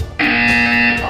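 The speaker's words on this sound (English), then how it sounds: "When you hear the buzzer, stare at the art." A loud, steady electronic buzzer from a PlayStation video game cuts in abruptly and holds an even, harsh tone for about a second.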